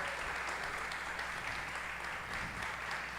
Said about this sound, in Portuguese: Gorete França, irmã de Chico, recebam com os aplausos.